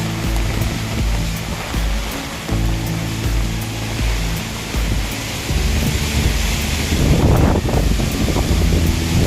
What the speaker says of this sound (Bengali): প্রচণ্ড বৃষ্টি বাতাস প্রচণ্ড বাতাস